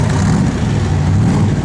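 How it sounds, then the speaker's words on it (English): A 1966 Chevrolet Corvette convertible's side exhaust rumbles loudly and steadily up close for a moment, deep and throaty, with a low burbling exhaust tone. "Gotta love the side exhaust."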